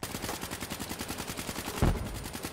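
Rapid automatic gunfire from Black Ops 3 rattles in a fast, even burst, loud and close, ending in a heavier blast near the end.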